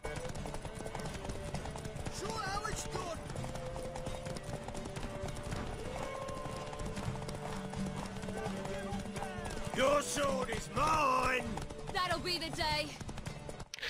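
Horse hooves clip-clop steadily at a walking pace in the video game The Witcher 3, with game music and character dialogue playing over them.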